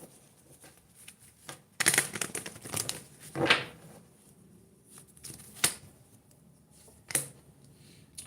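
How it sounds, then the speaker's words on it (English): Tarot cards being shuffled and pulled from the deck, heard as several crisp riffling and snapping bursts spaced through a quiet room, close and moderately loud. "Let me get a few more cards out."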